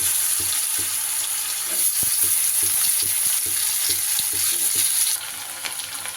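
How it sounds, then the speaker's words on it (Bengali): Potato pieces fry in a small amount of oil in a pan, a bright steady sizzle broken by regular scraping knocks of stirring, the last second a little quieter. "এবার আমি এর মধ্যে দিয়ে দেব কেটে রাখা আলুর টুকরোগুলো"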